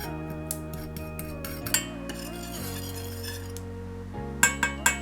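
Sauce ingredients and cornstarch are stirred together in a cold pan for mitarashi dango glaze, with light clinks and taps of a utensil against the pan over a quiet background.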